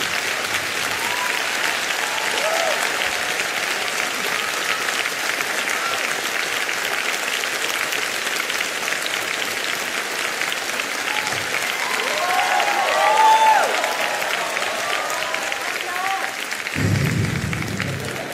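A theatre audience at a Cantonese stand-up comedy show breaks into sustained, dense applause, a broad roar of many hands swelling slightly before fading near the end, with some faint crowd voices mixed in.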